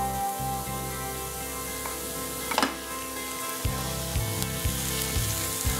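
Mashed potato is stirred into a frying samosa masala for bread samosa, giving a close, steady sizzle broken by repeated spoon scrapes and knocks against the pan.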